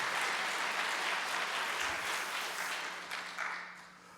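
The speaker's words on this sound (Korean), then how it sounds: "우리 청년들 향해서 박수 한번 보내주시면" A church congregation applauds the youth choir after their praise song, a steady wash of many hands clapping that holds fairly evenly, then thins and fades toward the end.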